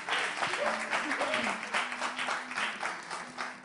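A studio audience claps and cheers on a French talk show, a steady wash of applause with a voice talking over it throughout.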